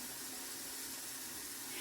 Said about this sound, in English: I'm gonna fill up this pitcher of water.